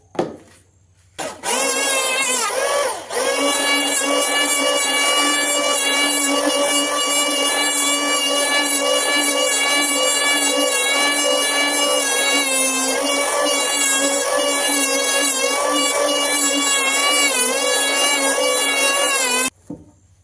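A new electric randa wood planer starts up after a short pause and runs loud and steady with a high, buzzing whine for nearly twenty seconds, then cuts off abruptly.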